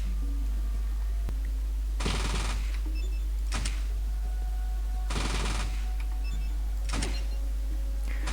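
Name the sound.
gunfire aimed at head in video game Fallout 2 Remake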